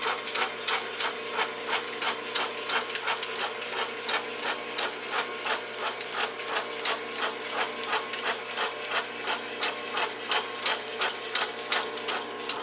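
A Bridgeport milling machine cuts a custom fixture, giving a steady, close mechanical whir with rapid rhythmic ticking from the cutter teeth, even and unbroken throughout with no talk.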